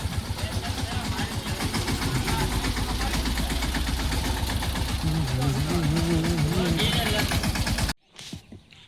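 Tractor engine idling during unloading of a load, a loud rhythmic low chugging that runs steadily under a voice before cutting off near the end.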